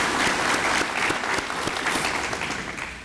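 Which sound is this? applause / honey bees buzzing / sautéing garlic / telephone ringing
applause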